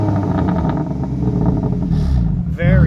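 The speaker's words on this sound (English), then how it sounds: "Let's go ahead and go to the back and give a little rev time with Allison." A BMW M4 Competition idles and revs through its enhanced sport exhaust with a deep, steady drone, loud and close, with a voice appearing near the end.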